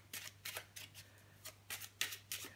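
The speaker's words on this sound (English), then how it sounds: "Make sure they just examine the cards to make sure they're regular, and they give them a shuffle." Playing cards being shuffled by hand in repeated short riffling bursts, about eight quick rustles spread evenly over a few seconds, close and moderately loud over a low steady hum.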